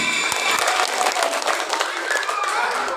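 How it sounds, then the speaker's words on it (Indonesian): Dense, loud crowd clapping at a religious gathering for Eid al-Adha, a steady wash of many hands filling the whole stretch without a break. "Tepuk tangan dong buat Yongki."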